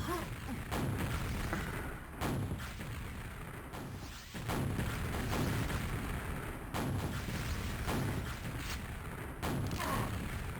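Rocket blasts and weapon fire in a Quake two-on-two match, repeated sharp booms and bursts at irregular intervals over a dense, continuous layer of game noise.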